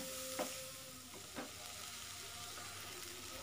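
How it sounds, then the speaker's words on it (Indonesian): Wilted cabbage stirs in a pan with chicken stock and sugar, a low, quiet sizzle with two brief scraping strokes of the spatula early on, then a soft steady hiss. "Kemudian aduk sampai tercampur rata dan biarkan sampai kolnya benar-benar layu dan bumbunya benar-benar meresap ya"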